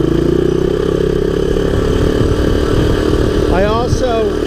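A 1983 Honda ATC200X three-wheeler with a damaged front exhaust runs steadily close by, its loud, rough engine drone holding a constant pitch before a brief rising rev near the end.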